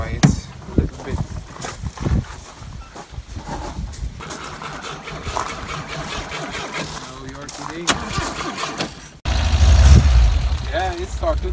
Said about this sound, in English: the 1966 Volvo that he starts up by spraying on the engine